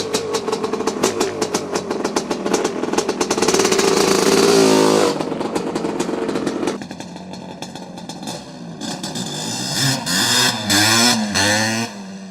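A lightweight 1983 Honda CR250 motocross motorcycle revs loudly and close by, its engine note rising and falling in repeated sharp bursts of throttle.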